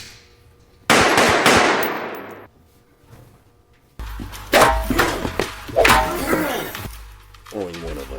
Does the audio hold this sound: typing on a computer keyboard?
no